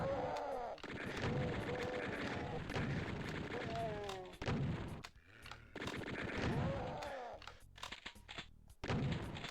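Dense rapid gunfire and blasts from a fight with chaingunners in the 1994 PC game Doom II, played on Ultra Violence, come in continuous loud bursts with brief lulls and monster cries mixed in, with no speech.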